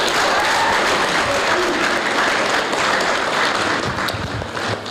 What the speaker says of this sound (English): So can everyone give them a round of applause,